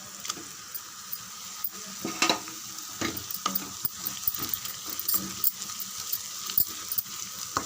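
A ground masala paste of roasted gram, cashews and cardamom sautés in oil in a pan for chicken gravy, giving a soft sizzle punctuated by frequent close scrapes and knocks from stirring, with no voices.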